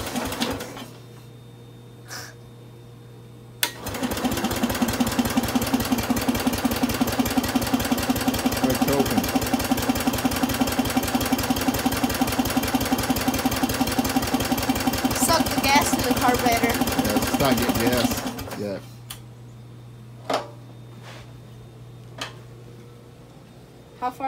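A Bolens garden tractor engine runs at a steady, ticking idle for about fifteen seconds, close and fairly loud, then shuts off, with quiet surroundings before and after.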